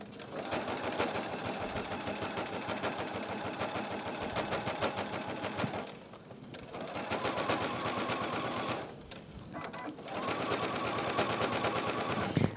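A sewing machine runs steadily, stitching lining fabric in place on a William Morris tapestry fabric project, with a fast even needle rhythm in long bursts separated by brief pauses, close and alone.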